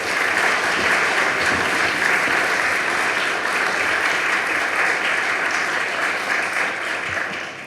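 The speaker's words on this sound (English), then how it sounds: "Please give him a warm applause." A lecture-hall audience at a Holocaust memorial lecture applauds in welcome, a full, even wash of clapping that stays strong throughout and tapers slightly near the end.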